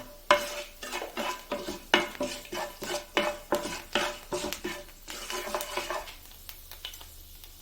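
Rice is dry-roasted in a pan while a spoon stirs it briskly, a rapid series of scraping clinks and rattling grains, loud and close, slowing toward the end with no voices.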